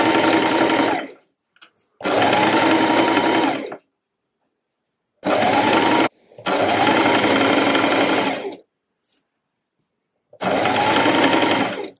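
Sewing machine running a straight stitch along a fabric side seam of a reversible button-front dress, loud and close in four or five steady bursts of whirring with short pauses between runs.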